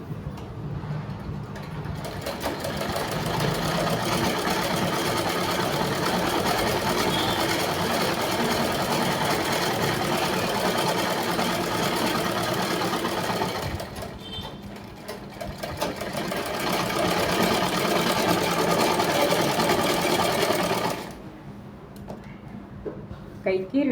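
A sewing machine runs in long continuous bursts stitching a blouse, whirring close and steady, stopping briefly in the middle and again near the end, with someone speaking over it.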